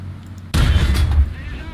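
A tank cannon fires a high-explosive shell in the War Thunder video game: a single sudden, heavy, booming report that rumbles on for under a second and then decays.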